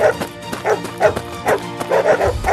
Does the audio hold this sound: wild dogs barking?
yes